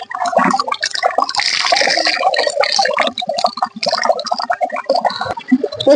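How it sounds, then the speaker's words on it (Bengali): Tap water poured onto a person's head at an outdoor hand-pump spot before shampooing, a continuous splashing and trickling stream with shifting gurgles, close and fairly loud, no talking. "প্রথমে একটু মাথার মধ্যে জল নিয়ে নেব"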